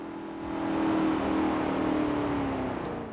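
A Jaguar S-Type R engine in the Forza Horizon 4 racing game holds a steady, droning rev that swells slightly, then eases off toward the end, heard alone and fairly close.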